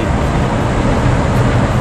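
A steady, loud rumbling roar of a light rail (LRT) train passing nearby in Manila, continuous broadband noise without distinct pauses or voices.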